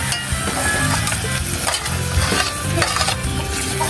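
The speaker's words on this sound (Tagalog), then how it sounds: "At ilagay na po natin itong giniling. Ayan po mga idol. Okay. Haluin po." Ground meat sizzles loudly in a hot pan while a utensil stirs it, a steady dense frying hiss with scraping, for spaghetti sauce, no talk.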